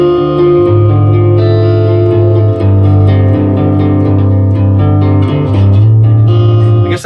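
Electric guitar played on the neck pickup with low tone and volume settings through a 1975 Electro-Harmonix Linear Power Booster 2, loud sustained chords and notes ringing out alone with warm, full tone.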